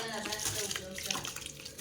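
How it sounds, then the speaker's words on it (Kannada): Washed rice tipped into boiling, oil-topped water for chicken biryani, a close watery splash and rush with bubbling underneath, while people talk over it. "ಅಕ್ಕಿ ತೊಳೆದು ಹಾಕಬೇಕು"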